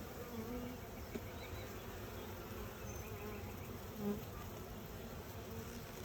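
Honeybees buzzing around a swarm trap holding fresh comb, a continuous faint drone of many wings with individual bees passing near now and then.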